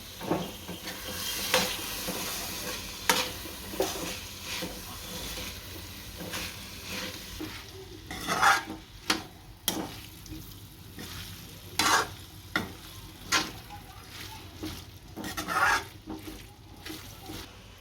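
Continuous frying sizzle with repeated scraping strokes of a spoon stirring boiled corn kernels into gravy in a pan, close and steady.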